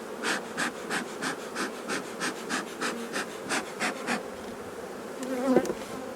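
Honeybees buzz around an open hive during a frame inspection, a close, steady drone with pulsing swells as bees fly past, continuous throughout with no talk.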